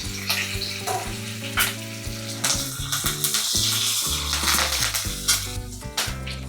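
Curry leaves and two or three dried red chillies spatter and sizzle in hot oil for a kadhi tempering, a steady close frying crackle with stirring and clinks of a pan throughout.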